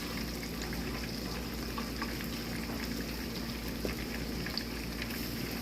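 Fish frying in hot oil, a dense, even crackle and bubbling hiss that carries on without a break.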